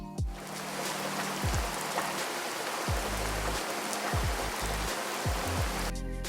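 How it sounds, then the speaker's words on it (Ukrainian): Steady patter of spring rain on a surface with a soft continuous hiss, interrupted by faint low swooping tones; no voices. "Йде весняний дощик. Послухайте."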